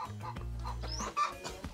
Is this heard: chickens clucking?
yes